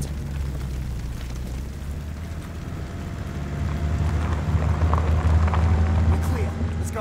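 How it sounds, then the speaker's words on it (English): Tank from Call of Duty: Vanguard rolling across a bridge, a heavy low engine rumble and rattling that grows louder as it passes close by, with wind-like noise and a brief voice over the top. "That's a tank. Wait for them to pass."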